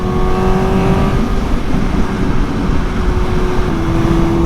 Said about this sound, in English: The bike sounds like it's screaming,